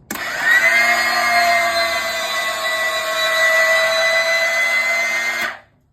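An electric landing gear actuator motor hoists 200 pounds of dead weight on a 13.8-volt system, producing a steady, loud whirring drone with a high whine that holds for about five seconds, then stops abruptly.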